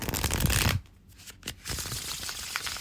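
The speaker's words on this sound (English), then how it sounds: "you get a buttery shuffle every time" Deck of glossy linen-cardstock tarot cards being riffle-shuffled close up, a quick flurry of soft papery flutters that ends abruptly, followed by a few faint slaps and handling sounds.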